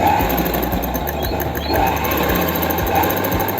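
A sewing machine stitches the seam of palazzo pants in a fast, steady mechanical whir with rhythmic needle clatter, loud and close, running unbroken with no talk.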